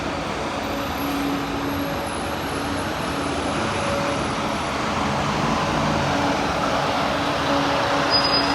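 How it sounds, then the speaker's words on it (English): Alexander Dennis E200 MMC single-deck buses pull away from Bath bus station on local city services, a continuous low engine rumble mixed with broad road and traffic noise, steady and moderately close with no talking. "Here are some E200 MMCs leaving Bath bus station on some local city services"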